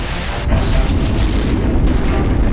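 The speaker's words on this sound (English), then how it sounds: "Open fire!" Heavy weapons fire in a space battle from the EVE Online cinematic: a dense, continuous roar of booming blasts, loud and close, with surging bursts around the middle and no talk.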